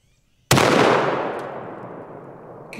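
A single .338 Lapua round fired from a Barrett MRAD sniper rifle at a target: one sudden, very loud crack after near silence, followed by a long rolling echo that slowly fades outdoors.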